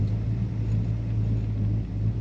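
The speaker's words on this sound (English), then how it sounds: "Today we're driving a beautiful bright red 1955 Chevrolet." Steady low rumble of a bright red 1955 Chevrolet 2-door sedan with an automatic transmission, driving along at an even pace. The engine drone is continuous and moderately loud, with no speech.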